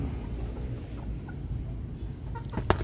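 A rooster or chicken, likely a gamecock, clucks softly against low rumbling background noise, with a couple of faint short calls and a sharper click near the end.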